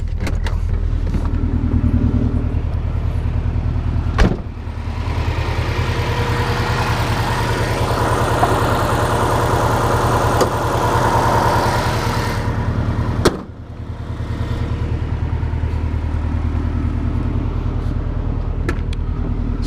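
A Subaru EJ205 engine, swapped into a 2.5RS and fitted with an aftermarket turbo inlet, idles with no muffler. It gives a steady, loud, low throbbing rumble that swells with a broader roar through the middle, with no talking.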